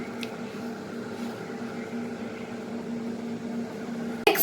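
A microwave oven runs while baking a homemade brownie cake, giving a steady low electric hum with a faint constant drone, ending in a sudden brief clatter.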